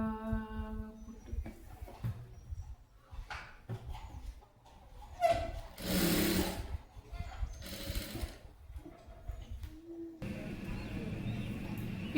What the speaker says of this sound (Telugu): దీని మీద ఇలా ఒక కుట్టు అనేది వేసుకోవాలి.